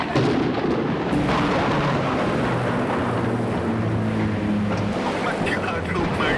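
A lightning strike hits a plane's engine during a storm, heard as a loud rumbling blast followed by a heavy sustained roar of engine and wind noise, with voices partly mixed in.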